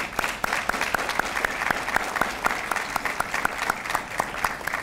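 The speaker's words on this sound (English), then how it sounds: "Give them a round of applause, would you please?" Sustained applause from an audience at an international students' graduation reception at West Virginia University, steady and moderately distant, with many overlapping claps and a few sharper individual claps ringing out above the crowd.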